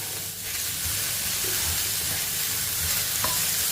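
Medium capsicum and carrot sautéing in a pan for a weight-loss vegetable dish, a steady close sizzle with faint stirring scrapes throughout, no talking.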